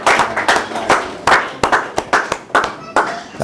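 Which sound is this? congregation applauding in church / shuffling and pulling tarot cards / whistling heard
congregation applauding in church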